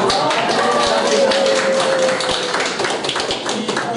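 Audience applause at a Senior Day gathering in Brzostek, Poland: dense, steady clapping across the whole stretch, fairly loud and close, thinning slightly near the end, with some voices mixed in.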